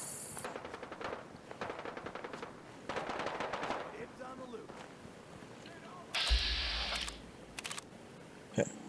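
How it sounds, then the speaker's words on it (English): Rapid bursts of automatic gunfire in Fallout 4 crackle in several volleys, with a heavier blast and sharp single shots near the end, partly under speech. "other gunfire broke out nearby."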